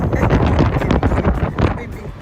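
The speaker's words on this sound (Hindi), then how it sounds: "हवा चल रही है" Wind blowing outdoors on a sunny day, buffeting the microphone in loud, gusty rumbling surges that swell and ease over a couple of seconds.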